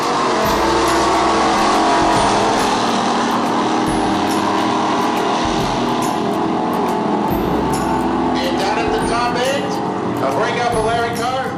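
A 1971 Plymouth Duster pro street car roars through a drag race run, its engine a loud sustained drone with brief shifts and dips, while someone talks over much of it.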